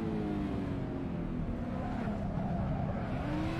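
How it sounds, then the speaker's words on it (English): Drifting car in the Assetto Corsa racing game on the Akina downhill course, engine droning steadily with sustained tire squeal throughout, loud and continuous with no talk. "Oh, he's drifting."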